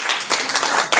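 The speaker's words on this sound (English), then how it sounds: "Please a round of applause." A conference crowd at Mining Indaba 2025 in Cape Town claps in steady, dense applause, loud and close, swelling in brief surges.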